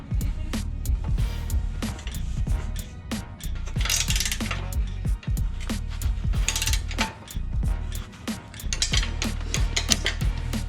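A hand ratchet clicks in rapid runs while a winch fairlead is bolted onto a Dodge Durango, the close, metallic pawl ticking repeating in bursts over a low rumble.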